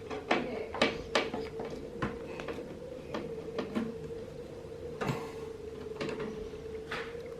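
Scattered small metallic clicks and ticks of screws being unscrewed from a computer case cover, over a constant low electrical hum and faint background noise.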